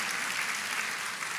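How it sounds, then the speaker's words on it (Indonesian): A church congregation applauds the sound man during a sermon, a short burst of dense, steady clapping from many people, fairly close and with no talk over it. "tepuk tangan nih buat soundman-nya ini ya"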